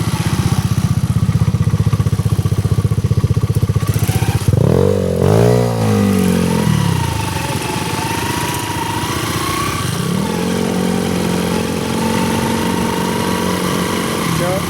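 A loud TMX 125 motorcycle with an open exhaust pipe idles roughly, then revs sharply and settles back to a steady, rattling idle close by.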